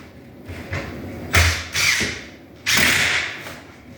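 A screw being driven into drywall, sounding as a few short mechanical whirring bursts of a driver, with quiet pauses between the runs and no talk.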